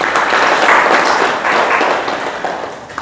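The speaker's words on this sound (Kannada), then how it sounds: "ಜೋರಾಗಿ ಚಪ್ಪಾಳೆ ಹಾಕ್ಬೇಕು" Loud, sustained clapping fills the hall during a spiritual discourse at a Virakta Math in Basavana Bagewadi, a dense steady wave of applause from a close audience that eases slightly toward the end.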